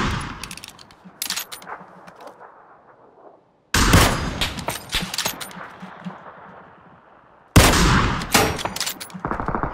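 Gunfire in the battle game PUBG, with sharp loud shots at about four and seven and a half seconds, each followed by a ringing, echoing tail, and fainter cracks and clatter earlier; no speech.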